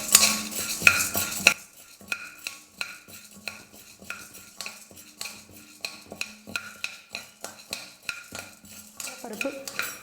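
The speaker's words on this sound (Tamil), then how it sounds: "நல்லா பொன்னிறமாக வர வரைக்கும் வறுத்துக்கலாம்" Chana dal and urad dal being dry-roasted in a pan over a medium flame, a spoon scraping and clinking against the metal in steady irregular strokes, with a faint sizzle underneath and a louder clatter at the start.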